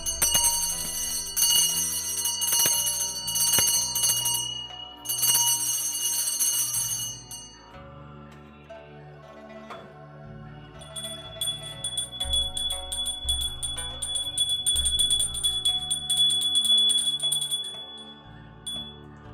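An old ritual genta bell rings during a Chinese deity cleansing ritual, with bright, shimmering metallic strokes in bursts, then sustained, ringing repeated tones over low resonant hum, loud and close.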